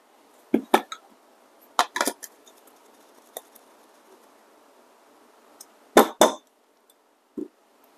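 Glasses clink a few times during espresso preparation, with a glass from Tree Bomber among them: several short, sharp chinks scattered through otherwise quiet room tone, with a close pair near the end.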